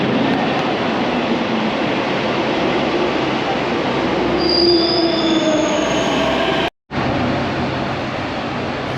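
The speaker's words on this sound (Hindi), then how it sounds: "Finally boarded metro." A Delhi metro train running underground, with a loud steady rumble of wheels on rails and rising squealing tones from the wheels, heard close from inside the carriage, with a brief cut near the end.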